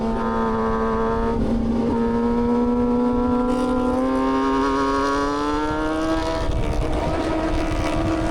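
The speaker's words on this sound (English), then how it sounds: "That's kind of where I start downshifting and braking." A ZX-6R motorcycle on the Road Atlanta track during a track day, its engine droning loud and close with pitch climbing steadily, then dropping sharply near the end as it downshifts and brakes.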